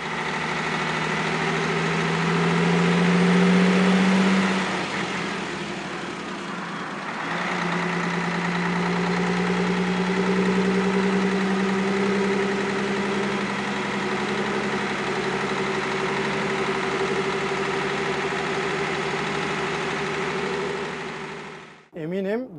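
The engine of the last-built Mercedes O403 bus drones as the bus climbs a cloverleaf exit ramp, a deep, steady running note heard from inside the cabin, briefly easing before returning to a constant rumble.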